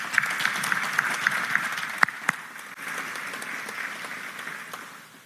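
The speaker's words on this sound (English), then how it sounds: "Let's give them a round of applause." A crowd applauds steadily for Hall of Fame recognition recipients at an alumni event for several seconds, with a couple of sharp, louder claps standing out partway through.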